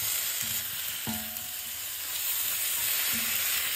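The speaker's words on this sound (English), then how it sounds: "Just gonna saute that a little bit." Half-cooked, air-fried beef for Filipino beefsteak sizzles softly as it is sautéed in a pan. A steady hiss runs throughout, and a few brief clinks of a utensil against the pan come through.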